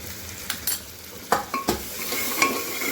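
Spices such as chili powder and turmeric stirred in a frying pan for an aloo baingan sabji, a spatula scraping in a few distinct strokes over a steady soft sizzle, close and alone.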